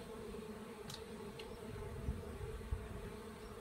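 Honeybees hum steadily while being moved into clean hives during a spring colony inspection, a close, continuous low drone with a couple of brief higher buzzes passing near.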